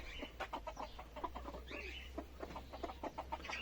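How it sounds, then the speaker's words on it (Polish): A broody hen clucking in low, repeated throaty bursts, fairly close, with faint background hum and no talking. "To jest dźwięk kwoki"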